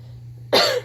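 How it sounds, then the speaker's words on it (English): A single close, sharp cough from a teacher who has been sick, a short harsh burst lasting under half a second against a quiet room. "so sorry for coughing"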